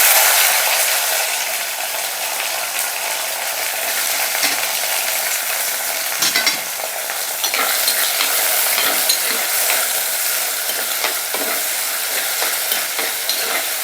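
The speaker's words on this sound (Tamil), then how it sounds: "தக்காளி பழம் நல்லா வதங்கட்டும்." A tomato sautés with popped mustard seeds, fenugreek and curry leaves in a pan for onion-garlic kootu. A bright, loud continuous sizzle carries rapid clicking stirs of a spoon throughout, up close, with no talking.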